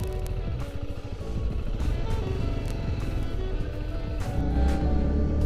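A Vento Hyper 280 motorcycle rides off-road, its single engine droning steadily with rough, pulsing throttle changes and bumps, loud and close throughout with no talking.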